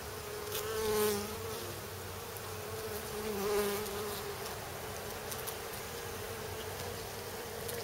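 Honey bees buzz steadily inside a hive, a dense, continuous hum with a couple of louder swells as individual bees pass close.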